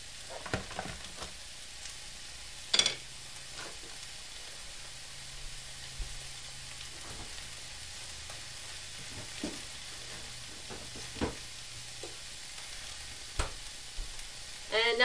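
Carrots fry in a pan during a tofu stir-fry lesson, a low steady sizzle over fifteen seconds punctuated by scattered clicks and a few sharp knocks of utensils, no speech.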